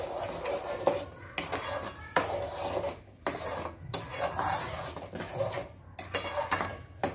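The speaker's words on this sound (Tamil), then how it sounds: "இதையும் நல்லா கிண்டி விட்டுருவோம்." A spoon scrapes and stirs kesari with added sugar in a pan, rhythmic gritty rasps in bursts of about a second separated by brief gaps, close and fairly quiet.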